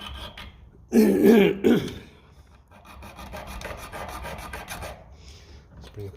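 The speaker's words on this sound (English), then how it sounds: "We'll probably have to file this back, which is no harm." A metal clip for a Lucas D3A4 distributor cap on a Ferguson tractor is filed in a vise: a loud burst of coarse rasping strokes, then steadier, quieter filing, with a brief word spoken.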